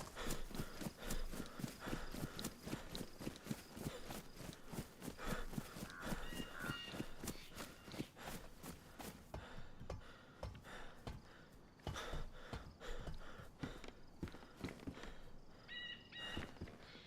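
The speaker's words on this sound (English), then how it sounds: "Oh, it's the fox I could hear. I could hear footsteps." Footsteps of a fox in DayZ, heard as a steady run of quick, even padding steps across most of the clip, fairly close and clear against quiet outdoor ambience.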